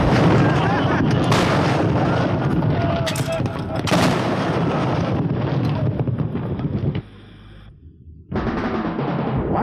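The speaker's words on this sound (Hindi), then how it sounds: "पर 1 राउंड गन फायर करो।" A single artillery gun round booms in a battlefield scene of a short war film, a loud blast followed by a long rumbling tail that drops away, then the noise briefly resumes.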